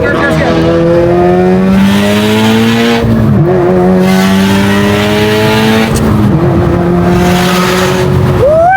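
A Subaru VAB STI with a rotated big turbo revs hard in repeated rising engine pulls, loud and close, with brief drops between the sweeps.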